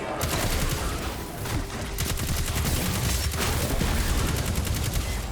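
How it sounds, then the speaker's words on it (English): Rapid automatic gunfire from the hip in the video game Destiny 2 rattles on continuously and loudly, with dense repeating shots and no pause. "You can fire from the hip, too."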